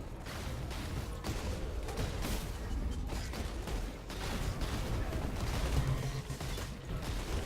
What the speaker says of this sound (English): What's all the green projectile explosions happening?